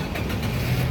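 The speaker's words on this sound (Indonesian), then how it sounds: "Sekarang kita coba nyalakan mobil ya." A 2007 Nissan Grand Livina 1.5 XV automatic engine running steadily right after ignition, a close, continuous mid-pitched car engine hum with no talk over it.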